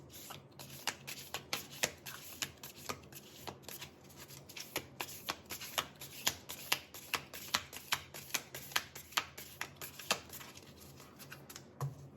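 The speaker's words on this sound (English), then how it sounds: "So let me shuffle the cards." Tarot cards being shuffled close up, a steady run of crisp riffling snaps and soft shuffles repeating throughout with no talking.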